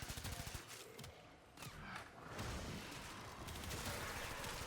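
Rapid gunfire from a weapon in the video game Warframe, dense bursts of shots layered with game effects, loud and continuous through most of the stretch, with little speech.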